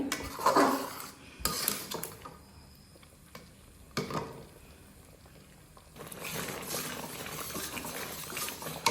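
Rice simmering in milk in a pot for palm payesh, stirred with a spoon that clinks and scrapes against the metal in short bursts, with a soft bubbling simmer underneath and no talk.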